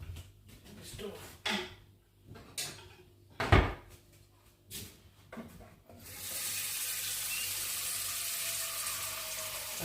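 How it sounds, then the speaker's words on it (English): Tap water pours into a pot in a home kitchen while dinner is cooked. A steady, loud rush fills the second half, after a few scattered clatters and knocks. "Let me put some water in the stove."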